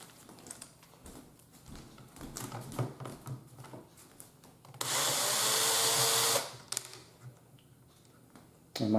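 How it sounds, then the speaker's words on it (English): A power drill backs screws out of a KitchenAid dishwasher's touchpad panel, a loud steady whir of about a second and a half that stands out after quieter handling and clicks. "we are going to use a power drill to take it out"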